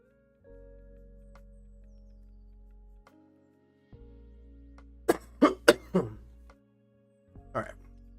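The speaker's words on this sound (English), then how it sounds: "coughing up a storm" A person coughs several times in a quick harsh cluster, close to the microphone, with another short cough a moment later, over a faint electronic hum and background tones.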